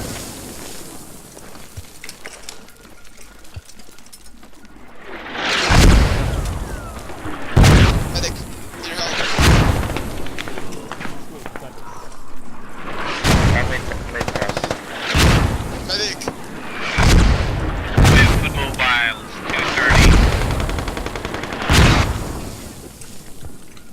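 Enemy mortar rounds in the video game Squad land in a string of heavy booming explosions, about ten loud blasts spaced a second or two apart, with gunfire and a voice talking between them.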